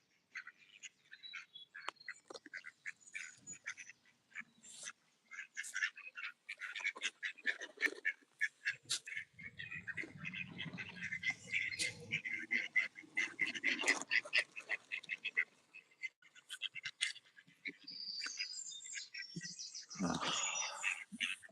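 Several ducks quack repeatedly and loudly at close range, with overlapping calls and a few chirpy notes mixed in, males squaring off against others, with no talking.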